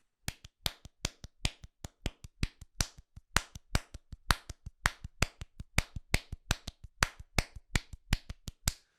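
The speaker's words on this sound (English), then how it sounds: "I took those time signatures and I clapped them like this." Layered hand claps beat out odd time-signature rhythms as a steady run of sharp, dry claps, close and crisp, with no voices present.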